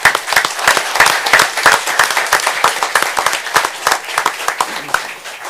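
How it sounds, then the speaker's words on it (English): At a city commission meeting in Dothan, a smaller room audience claps for a Special Olympics bowling team, with distinct individual claps in brisk, uneven rhythm, fairly close and loud, continuing throughout without talk. "What a great round of applause."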